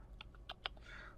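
Several quick keystrokes tap on a computer keyboard, a short burst of faint, close clicks in a quiet room.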